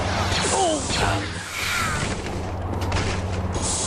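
Stormtroopers fire blasters in the Star Wars Jedi Academy video game. Loud, repeated shots and booms run through a busy, dense mix.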